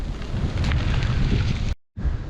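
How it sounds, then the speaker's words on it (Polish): Strong, cold, gusty autumn wind roars and buffets close by over open fields, steady and harsh, cutting out briefly near the end before resuming. "a tu siarczysty, zimny, porywisty wiatr, dosyć nieprzyjemny"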